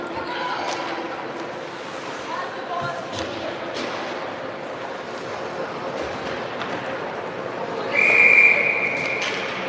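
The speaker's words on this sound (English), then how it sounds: "Whistle goes, puck wasn't moving anywhere." A referee's whistle sounds at an ice hockey exhibition game between girls' U18A and U15AA teams: a single sharp, piercing blast near the end, rising above rink noise, skate scrapes and faint background voices.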